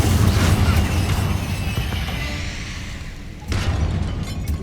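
Bombarda and Confringo spells explode in Hogwarts Legacy: a loud, rumbling blast fades over a few seconds, then a second sharp burst hits near the end, with no speech.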